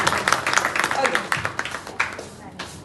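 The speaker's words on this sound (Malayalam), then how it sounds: "എല്ലാവരും ഒരു ബിഗ് ക്ലാപ്പ് കൊടുത്തിട്ട് സ്റ്റാർട്ട് ചെയ്യാം" An audience at a women's empowerment program claps together in a dense burst of applause that tapers off over a few seconds, near and fairly loud.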